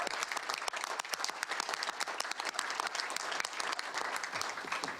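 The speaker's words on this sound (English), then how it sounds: "So give them a round of applause." A steady round of audience applause fills a school board meeting room, continuous dense clapping at a moderate, even level with no voices.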